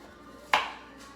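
A single sharp knife chop through carrot tops on a cutting board, close and crisp, then a brief faint follow-up. No voices.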